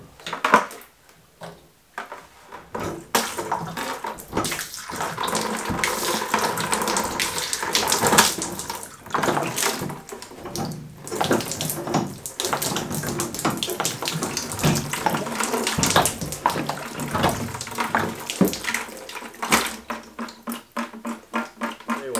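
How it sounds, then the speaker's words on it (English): Water sprays from a foot-pedal first aid water station inside a shipping-container workshop at night, a steady hissing rush running almost continuously with brief gaps and surges, close and fairly loud, with no talking. "it should shoot out every time I move the foot pedal"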